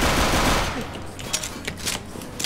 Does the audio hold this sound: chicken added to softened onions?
no